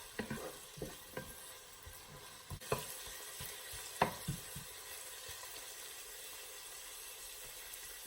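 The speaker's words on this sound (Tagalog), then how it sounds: "Igigisa lang natin ito." Garlic and onion sauté in a pan, with a steady frying sizzle beneath scattered stirring scrapes and clicks of a utensil, a few sharper knocks near the start and middle, close and moderately loud, no talking.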